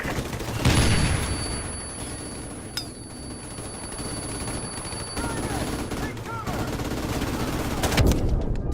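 Gunfire in the video game Call of Duty Modern Warfare Remastered, with sustained automatic bursts and booming shots over a dense battle din.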